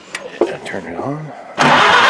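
A Farmall tractor engine, one with a known fuel leak, cranks and catches at the end, its broadband roar rising loud and steady after brief talk and clatter.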